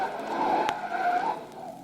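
A car takes a corner at speed during a chase, its tires squealing and skidding in a sharp, loud screech over engine noise, with one brief crack partway through.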